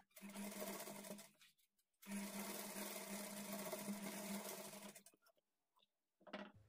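A sewing machine stitches a blouse lining close up in two steady whirring runs separated by a short pause, then gives a brief final burst.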